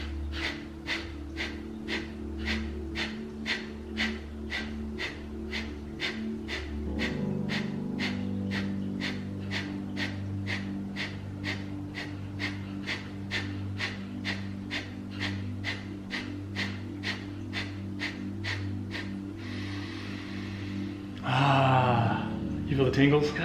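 Rapid, rhythmic pumping breaths of tantric breath meditation, a fast regular train of sharp huffs close to the mic, continuing for a long stretch before a deeper inhale and exhale near the end.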